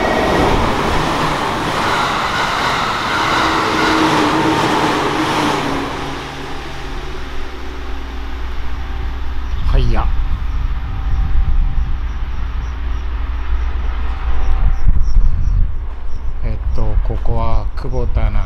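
Train passing through Kubota station on the Nagasaki Main Line, a loud continuous rumble and rush with rail clatter building toward the end, with a station announcement and talk over the start.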